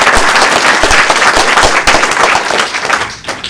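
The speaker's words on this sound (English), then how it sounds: "I'd invite a round of applause for him." A crowd at the 94th District Democratic candidate forum gives a round of applause, dense steady clapping that fills the room before tapering off at the end.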